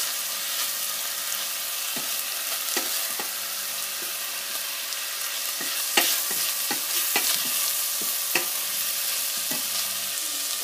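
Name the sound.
ground meat stirred and frying with tomato paste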